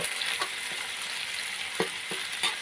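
Canned fish stir-fried with glass noodles in a pan, a continuous close sizzle with several sharp spatula scrapes at irregular intervals.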